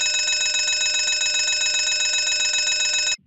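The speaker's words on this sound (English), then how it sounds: "And the abandoned rig alarm sounds like this." Abandon-rig alarm on a drilling rig: a loud, continuous electronic ringing tone with a rapid bell-like pulse, sounding steadily for about three seconds before cutting off abruptly.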